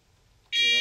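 A building smoke alarm goes off partway through, a sudden, loud, sustained shrill electronic tone that cuts in after a quiet stretch.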